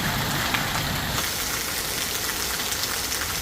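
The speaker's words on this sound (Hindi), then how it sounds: "साथ में बारिश बहुत मोटी मोटी हो रही है, और साथ में देखो भाई यहाँ ओले भी गिरने लग गए हैं" Heavy rain mixed with falling hail pours down in a loud, continuous hiss and patter, a dense wash of drops striking surfaces close by with no voices.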